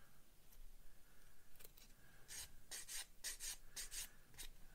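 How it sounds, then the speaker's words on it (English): Sanding stick, fine side, rubbing a plastic part from a 1/35 Takom AH-64D Apache model kit: a quiet series of short, dry scraping strokes in quick succession, close up, with no talking. "sanding stick, fine side."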